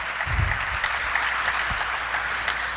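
An audience claps at the Global Health Limited (Medanta) IPO listing ceremony: a full, busy patter of many hands with sharp individual claps poking through, fairly close and sustained for the whole stretch.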